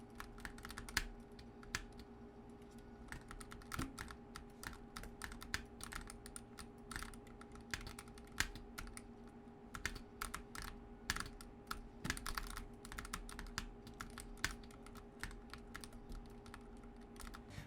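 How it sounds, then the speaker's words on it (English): Quiet, fast clacking of a Razer Huntsman Tournament Edition keyboard's switches, irregular keystrokes in quick bursts over a low steady hum. "the sound of the key switches"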